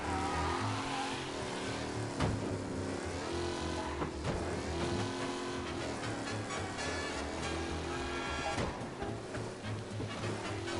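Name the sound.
car engine driving in a mafia video game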